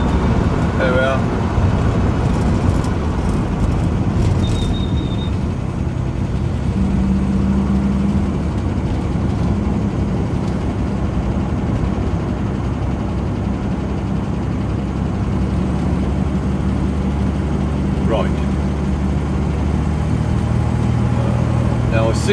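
A 1967 automatic Alvis car engine cruises in overdrive with a steady low drone and road rumble inside the cabin, while someone talks over it throughout.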